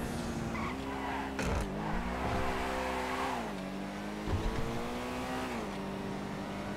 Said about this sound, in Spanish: He visto el coche, el Comet Gris.